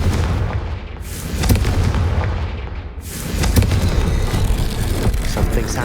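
Loud, booming blasts of a Confringo spell exploding in Hogwarts Legacy, two or three heavy bursts in quick succession with rumbling tails.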